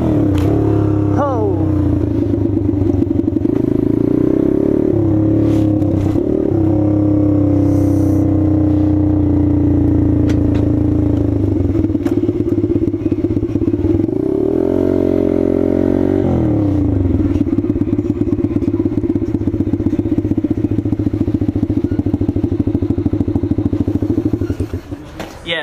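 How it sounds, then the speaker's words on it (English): A motorcycle revs hard while riding a wheelie up a hill, its loud engine droning close and steady with pitch swells as the throttle rises and dips, plus rattles and thumps from the ride. "See if I can wheelie up this hill."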